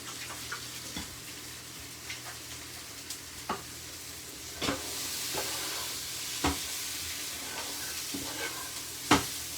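Salmon fries in a hot pan with a steady broadband sizzle, and scattered sharp pops and clicks stand out at irregular intervals over the continuous hiss. No one speaks.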